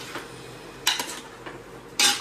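Chicken biryani mixture being stirred in a metal pot: a few sharp spoon-on-pot clinks and scrapes, with a louder clatter near the end, close and without talk.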